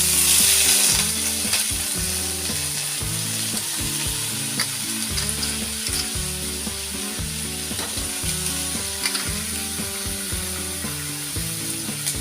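Crabs (alimasag) fry and sizzle loudly in a pan for a Filipino crab tinola dish, a steady close crackle with rhythmic scraping and clanking from stirring throughout.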